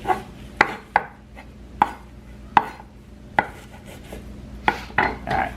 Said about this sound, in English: I'm going to chop up a little bit of this kale